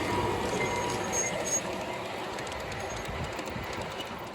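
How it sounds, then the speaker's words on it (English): A Southern Pacific model train runs along layout track at a show, giving a steady low rumble with faint rhythmic clicking that slowly recedes, with no talk over it. "it looks like we have a Southern Pacific train headed our way"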